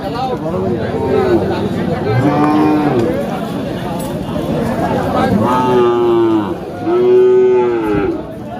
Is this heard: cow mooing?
yes